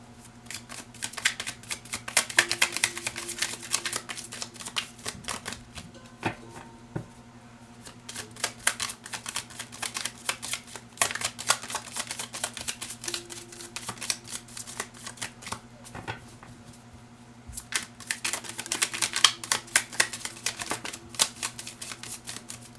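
Wild Unknown Tarot cards are shuffled in repeated bursts of quick riffling flutters separated by short pauses, close and fairly quiet, with a faint steady hum behind them.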